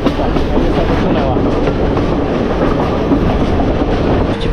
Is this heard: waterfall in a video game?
no